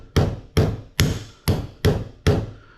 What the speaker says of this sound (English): I take this hammer here, and I tap that pin in as far as I can